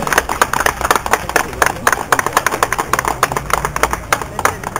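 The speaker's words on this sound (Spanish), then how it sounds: "¡Aplausos, por favor!" Audience clapping at a school fair in Villa El Salvador, a dense patter of many hands that swells in uneven bursts and carries steadily through the clip, with a voice faintly present underneath.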